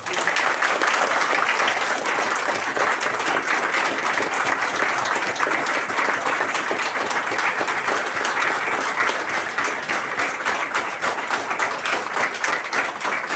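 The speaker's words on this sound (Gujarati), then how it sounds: "એકાદ મિનિટ માટે પણ તાળીઓ ચાલુ રાખી" A large audience clapping together in a hall, a loud, dense and steady roar of applause that keeps going without a break and stays fairly close, with no talk on top.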